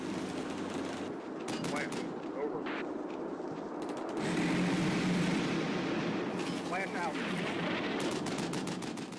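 In Combat Mission: Cold War, a Vulcan gun, two tanks and a grenade launcher team lay down area fire. Bursts of rapid gunfire and heavy booms repeat over steady rumbling battle noise.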